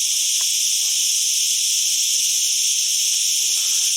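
Loud, steady cicada buzz filling the air near a rocky path in Andalusia, an unbroken high hiss-like drone with faint scattered background sounds beneath it.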